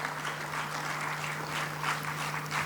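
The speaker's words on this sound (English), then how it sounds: "Let's give him a warm round of applause, ladies and gentlemen." An audience at a conference inaugural session gives a warm round of applause, a steady, moderately distant patter of many hands over a low electrical hum, with no voices.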